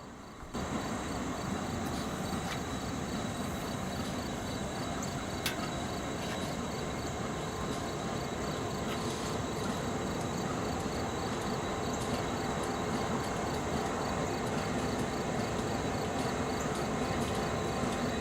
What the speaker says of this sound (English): we caught a rather interesting NS coal train heading northbound